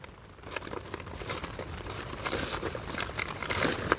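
Heavy rain drums on the fabric of a Decathlon Quechua MH100 tent, a dense, continuous crinkly patter heard from inside that builds slightly louder toward the end, with no voices.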